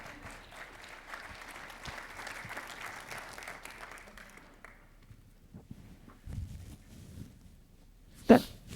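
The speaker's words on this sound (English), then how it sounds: "please give them a round of applause" Steady applause from a conference audience as speakers come up to the stage fills the first few seconds, then fades into quieter room noise with a few footsteps and a sharp knock near the end.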